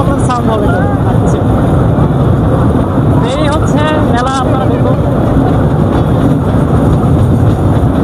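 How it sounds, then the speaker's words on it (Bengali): Small amusement ride train at a trade fair, rumbling and clattering continuously with rattles and squeaky tones, amid loud fairground noise and crowd voices. "এটা খালি ঘট ঘট করে বাচ্চাদের মতো চলতেছে ট্রেনটা"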